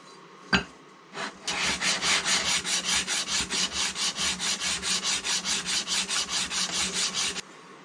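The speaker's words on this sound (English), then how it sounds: "I'm just gonna give that a little bit of a cleanup" A metal file works over the rough casting of a cheap cast chamfer plane in about twenty-five rhythmic rasping strokes. The strokes are close and loud, and a single sharp knock comes first.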